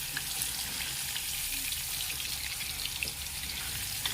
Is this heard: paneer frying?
yes